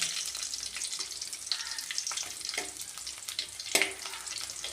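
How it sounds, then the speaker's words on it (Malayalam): Steady crackling sizzle of chopped shallots and dried red chilies sautéing in hot oil after mustard seeds, with occasional sharper pops and a few stirring scrapes; no voices. "കടുക് പൊട്ടിയിട്ട് നമുക്ക് ചെറിയുള്ളി അരിഞ്ഞതും വറ്റൽമുളകും കൂടെ ഇട്ട് ആദ്യം ഒന്ന് വഴറ്റാം"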